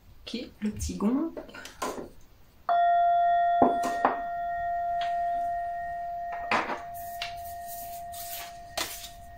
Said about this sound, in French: le petit gong